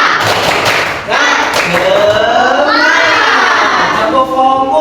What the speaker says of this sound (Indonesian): biar bersemangat, kita tepuk-tepuk dulu.